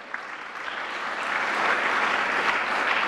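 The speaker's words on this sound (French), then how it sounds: "Sous vos applaudissements" Sustained applause from a crowd, steady clapping that swells slightly and holds for a few seconds with no talking.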